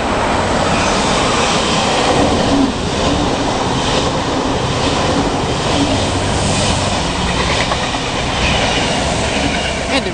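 An 8-car V set electric passenger train idles loudly at a platform nearby with a steady electric hum and rumble, faint clicks and squeals over constant noise, no voices.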